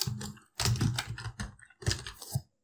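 Someone types into the Windows Start menu search box on a computer keyboard, producing three quick bursts of close, crisp keystrokes separated by short pauses, with no one speaking.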